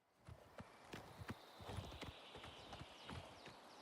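Horse hooves in the video game Oblivion Remastered clip-clop in an uneven trotting rhythm, fairly close, with a faint background hum and no talking.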